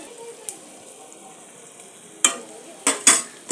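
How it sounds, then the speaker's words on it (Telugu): Ginger garlic paste fries quietly in a pan with a soft sizzle, broken by a few sharp scrapes and clinks of a spoon stirring against the metal, no talking. "అల్లం వెల్లుల్లి పేస్ట్ వేసుకుని కూడా బాగా కలుపుకునేటట్టు పెట్టుకోవాలి."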